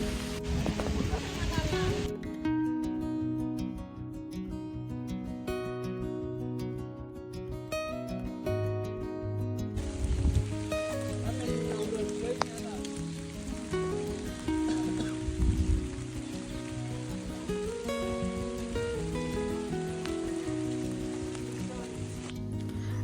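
Rain patters steadily on a cotton field throughout, a constant hiss with scattered drops, while voices and other sounds come and go over it.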